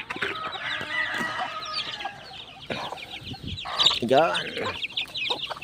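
Pet chicks peeping and clucking as they are fed, heard close and busy alongside a rooster-like call, with someone speaking briefly in Filipino over them.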